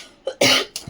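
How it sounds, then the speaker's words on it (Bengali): A person coughs in a home kitchen while preparing breadcrumb-coated chicken nuggets, giving a few short, harsh bursts close to the mic with brief pauses between them. "জানি না এত কাশি হচ্ছে কেন সেই টাইমটাতেই"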